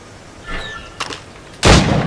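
Gunshots at targets in Assassin's Creed Rogue: a faint early report, then a sharper crack near the middle and a loud, full blast at the end, with no talk over them.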